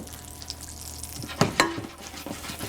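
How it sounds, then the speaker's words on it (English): Mushrooms seasoned with salt and pepper sautéing in a pan for cream of mushroom soup, a soft steady sizzle broken by a few sharp stirring scrapes and clicks near the middle. "I'm going to saute it until it's brown"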